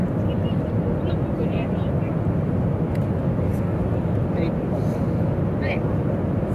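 Loud, steady roar of an airplane cabin in flight, a constant low rumble that fills the whole stretch, with faint talk barely audible beneath it.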